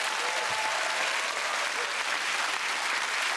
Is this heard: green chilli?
no